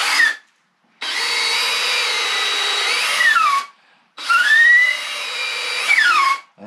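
A power drill whines as it turns a reamer inside a fishing rod part, two sustained runs of grinding with pitch dropping as the drill slows, separated by short silences.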